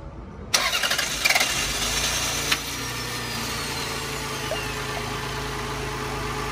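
A 1991 Toyota Camry engine cranks and catches after a moment of silence, followed by a steady, fairly loud idle that runs alone to the end.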